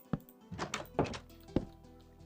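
A few dull wooden thunks of a double door swinging open and shut in Minecraft Pocket Edition, spaced out over a couple of seconds with faint background hum.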